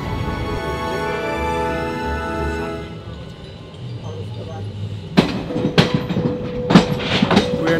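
A third-class sleeper train in India rolls along the tracks with a low rumble and tonal hum, then sharp metallic clacks and clinks as wheels pass over rail joints.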